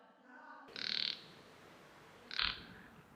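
Two frogs in Delhi give separate calls, each a short, buzzy croak, the second one shorter, against a quiet background.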